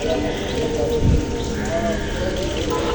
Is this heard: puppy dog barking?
no